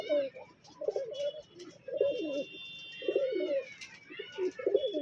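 A pair of domestic pigeons coo in soft, repeated rolling phrases at a steady rhythm, fairly close, with faint chirps and other background sounds behind them.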